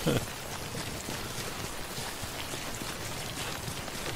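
Rain falls steadily in the video game Death Stranding, a dense, even wash of hiss across the whole stretch with one brief louder bump at the start.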